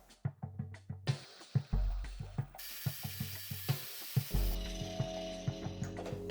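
A small hobby lathe machines a large-diameter aluminium blank: a steady rhythmic ticking clatter at close range, joined by a harsh rising cutting hiss and then a droning motor whine, with no talking.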